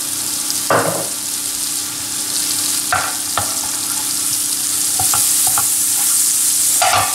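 Minced garlic sizzles in butter in a pan for a gratin dauphinois, a steady frying hiss with a few utensil scrapes and taps.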